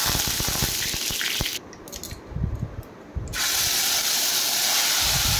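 Ground spice paste hitting hot oil in a home kitchen pan, a loud broadband sizzle that drops to quieter crackling and spitting for a moment before surging back to a steady, close hiss.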